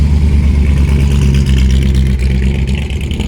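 Old 1930s-style hot rod with a flathead engine, a loud, close, steady rumbling idle with slight revving swells, no talking.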